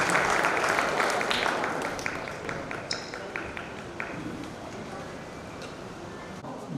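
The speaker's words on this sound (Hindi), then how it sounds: "सभी लोग पुनः तालियों से सम्मानित करेंगे।" Applause at a law book launch ceremony, starting as a full crowd clapping and tapering to sparse individual claps as a voice talks faintly in the background.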